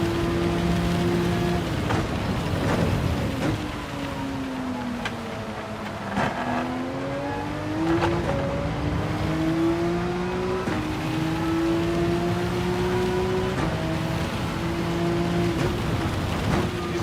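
Rain and race car engines in the racing game Gran Turismo 7: steady wet hiss under several engines whose pitch climbs and drops through gear changes, a continuous loud bed with no talking.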